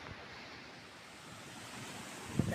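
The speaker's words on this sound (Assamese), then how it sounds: "ঠাণ্ডাৰ দিনত বতাহ ইমান আহি আছে" Strong winter wind blowing in a village, a steady broadband rush with a brief louder gust near the end, no voices.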